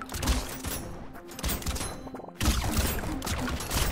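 Rapid, nonstop gunfire from weapons in the video game Brotato, dense overlapping shots and impacts in a continuous barrage with a brief lull midway before resuming loudly.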